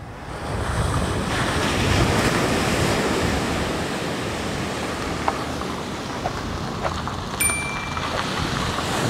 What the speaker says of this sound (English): Wind direction's blowing in my face